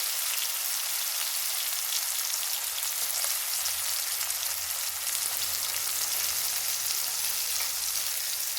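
Onions fry in a pan as the base of a chicken gravy, giving a dense, steady sizzle and crackle throughout, loud and close, with no voices.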